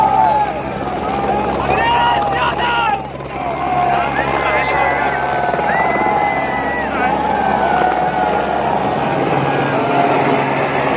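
A helicopter drones through a big crowd at Tiranga ground in Kakor, Auraiya during an Akhilesh Yadav rally, its steady rotor and engine sound buried under constant loud chatter and shouting.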